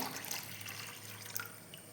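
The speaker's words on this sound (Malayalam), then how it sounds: "നമുക്കിനി തേങ്ങാപ്പാൽ രണ്ടാമത്തെയും മൂന്നാമത്തെയും തേങ്ങാപ്പാൽ ഒഴിച്ചു കൊടുക്കാം" Second and third extracts of coconut milk poured into a pot of broken wheat payasam, a brief close liquid pour with soft splashing and trickling.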